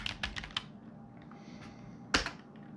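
Close keyboard typing of a terminal command on a Linux computer: a quick burst of key clicks, a pause with faint taps, then a sharp louder keystroke like the Enter key near the end.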